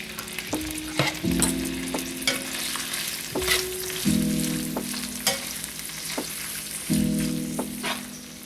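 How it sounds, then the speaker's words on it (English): Sausage cooks in a pan as red sauce is added. A bright, close sizzle is broken by repeated scraping stirs and clinks of a utensil against the pan, with no voices. "I'm going to add a little bit of red sauce to my sausage."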